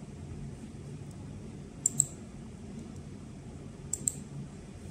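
Two quick pairs of sharp mouse clicks, near and crisp, while parameters are set in DJI FPV flight controller configuration software, spaced about two seconds apart over a quiet low room hum.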